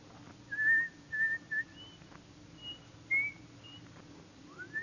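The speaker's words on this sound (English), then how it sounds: "Let me hear you whistle Coming Through the Rye." A man whistles the tune Coming Through the Rye on a radio comedy show, a short melodic phrase of clear whistled notes with brief pauses, alone over a faint hiss.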